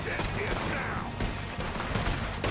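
Rapid gunfire in the video game Red Dead Redemption 2, a loud continuous barrage of overlapping shots and booms filling the whole stretch, close and dense with no pause.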